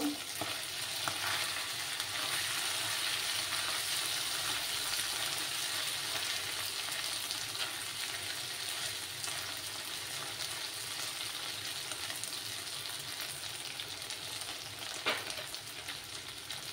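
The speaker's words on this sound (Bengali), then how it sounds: "আরো কিছুক্ষণ এইভাবে আমি ফ্রাই করে নেব।" Small fish frying in oil in a pan for a Bengali fish curry with ridge gourd and potato, a steady, close, even sizzle running throughout with faint crackles and no talking.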